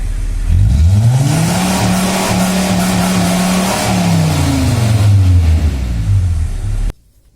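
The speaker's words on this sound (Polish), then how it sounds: "Teraz jedziemy nagrać pomiar głośności oraz przyspieszenie busa." A Volkswagen T4 Caravelle Syncro van engine revs up and accelerates, its pitch rising and holding steady, then it shifts and climbs again, loud and close, cutting off abruptly.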